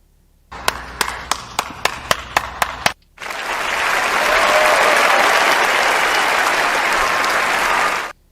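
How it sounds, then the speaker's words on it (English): A run of eight sharp, evenly spaced claps is followed after a short gap by a long, loud burst of canned-sounding crowd applause that holds steady for about five seconds and then stops abruptly. "I'm sorry I didn't give you your applause as it was due"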